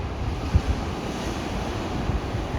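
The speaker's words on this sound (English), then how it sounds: "I can hear the waves rolling." Ocean waves roll onto a beach in St. Thomas, US Virgin Islands, a steady broadband wash with wind buffeting the microphone, continuous and moderately quiet with no talking.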